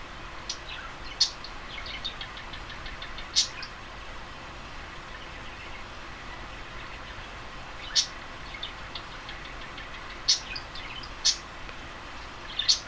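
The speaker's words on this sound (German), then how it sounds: "Ja, mein Vogel, Paul, macht wieder ein bisschen seine Späße" A pet bird named Paul gives short, high chirps indoors, scattered at irregular intervals over a steady low hum from a train simulator game, faint and a little distant.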